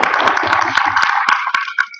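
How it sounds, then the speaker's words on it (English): Audience clapping at the NASA Space Apps Challenge pitch event in Adelaide, a dense round of applause from a crowd that thins toward the end, with a few sharper individual claps standing out. "So we get a big round of applause for Red Rover."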